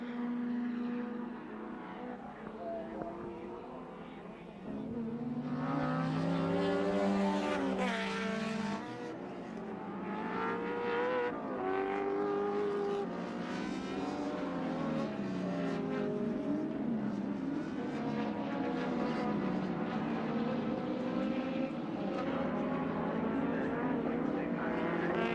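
Touring race cars, including the number 6 Texaco Ford Sierra, racing at Calder Park in the 1987 WTCC event: distant engines rise and fall as cars scream past, one after another, under a layer of crowd and track ambience.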